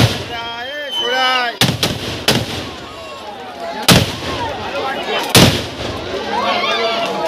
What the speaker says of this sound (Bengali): আগের বাজিটা মাটিতে পড়ে ফাটছিল আর এটা ওখান থেকেই ফাটছে।